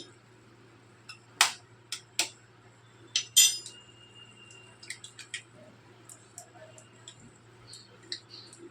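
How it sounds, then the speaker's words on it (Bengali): Two eggs cracked against a bowl's edge into flour while making paratha dough, a handful of sharp, close taps and clicks scattered among quieter shell and bowl noises in a quiet kitchen. "এবারে আমি দুটো ডিম আমি এর মধ্যে আমি ফাটিয়ে নেব।"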